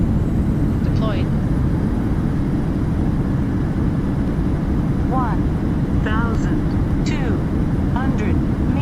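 An ELAL Boeing 737-800 rolls out after landing in MSFS2020, a loud, steady engine and airframe roar throughout, with short automated cockpit callouts over it.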